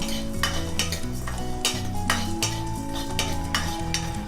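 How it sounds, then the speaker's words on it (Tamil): Masala is dry-roasted over a low flame for a Karaikudi chicken curry, with a soft sizzle under repeated scraping strokes of a spoon against the pan, a near, rhythmic stirring and no voices. "ஸோ மிதமான தீயில் லோ ஃப்ளேமில் நம்ம வச்சு வறுக்கணும்."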